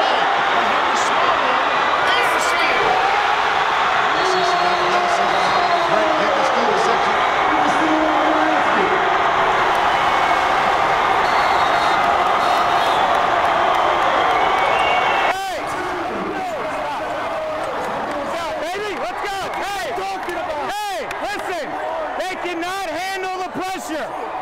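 A roaring basketball crowd fills a gym with sustained cheering, then fades into scattered shouts, sneaker squeaks and ball bounces as play resumes, with a voice talking over it throughout.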